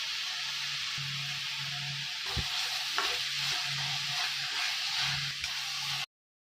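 Pav bhaji with grated ginger being stirred in a pan, a steady moderate sizzle with occasional scraping and clinking of a spoon against the pan, and a low hum underneath, no talking.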